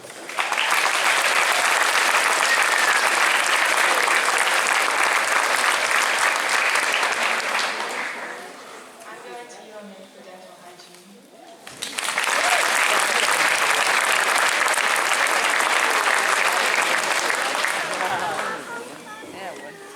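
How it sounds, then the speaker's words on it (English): Loud, sustained applause from a concert audience at a school band show, filling the air for several seconds, fading briefly into quieter murmuring, then surging back just as strong before tapering off. "Okay, we don't have to clap anymore"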